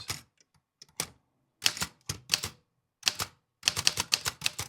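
Keys of an Underwood typewriter strike in quick irregular bursts, sharp loud clacks clustered in runs with short pauses between, heard close and alone.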